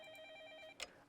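A telephone bell rings steadily in the Fate/Stay Night visual novel, a continuous electronic trill that cuts off abruptly and ends in a short click, fairly quiet.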